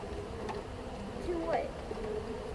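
A steady low hum of many bees buzzing close up in a hive box, with a few individual wing tones rising and falling over the drone.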